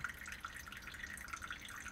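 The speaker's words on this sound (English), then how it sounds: "We have maybe a second or two left in the drip." Pour-over coffee drips from the brewer in a camper kitchen, a faint steady patter of small drops with no talk.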